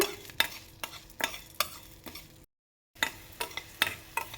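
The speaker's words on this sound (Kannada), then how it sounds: "ಎಣ್ಣೆ ಬಿಸಿಯಾದ ನಂತರ ಈ ಎಲ್ಲ ಪದಾರ್ಥಗಳನ್ನ ಸೇರಿಸ್ಕೊಂಡು ಒಂದು ಮೀಡಿಯಮ್ ಫ್ಲೇಮಲ್ಲೇ ಈ ಎಲ್ಲದನ್ನೂ ನೀಟಾಗಿ ಹುರ್ಕೋಬೇಕಾಗುತ್ತೆ" Sambar ingredients fried in oil over a medium flame: repeated spoon strokes scrape and clack against the pan over a light sizzle, broken by a brief silent gap.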